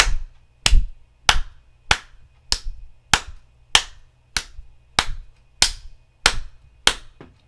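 Sharp, high hand claps struck fingers to fingers, about a dozen evenly spaced at a steady pulse, close and crisp in a quiet room with no voices.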